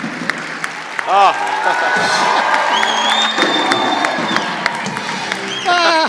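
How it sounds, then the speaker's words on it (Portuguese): A lively audience claps and cheers for an 88-year-old man, with whoops and shouted voices rising over sustained applause. "uma salva de palmas"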